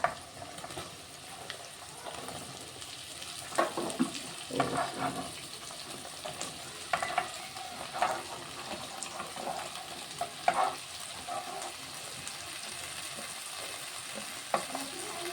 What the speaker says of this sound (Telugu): ఇప్పుడు ఈ కట్ చేసి పెట్టుకున్న బెండకాయలు వేసుకుంటాం.